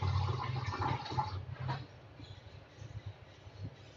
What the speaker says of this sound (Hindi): और इसमें हमने पानी डाल देना है।